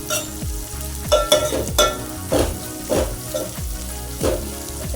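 Sprouted moth beans (matki) being sautéed in oil for Kolhapuri misal, a loud close sizzle broken by repeated rhythmic scrapes and stirring strokes of a spoon against the pan.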